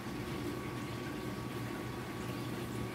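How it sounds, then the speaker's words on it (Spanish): Oil heating in a pan before frying fish, a steady dense bubbling hiss that holds at an even level throughout, close up with no voices. "por eso ya había puesto el aceite que hirviera"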